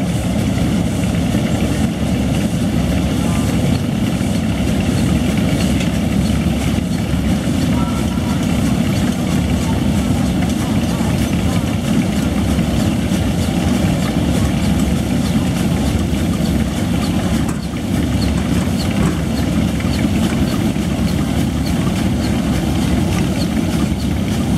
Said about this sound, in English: That is my brother's tractor there going in the parade now.